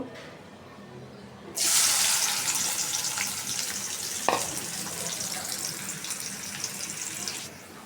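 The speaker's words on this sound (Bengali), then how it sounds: "এখন আমি পেঁয়াজটা ভেজে নিব" Sliced onions dropped into hot oil for biryani, erupting into a loud, steady sizzle that holds for several seconds with a brief clink partway through, then cuts off.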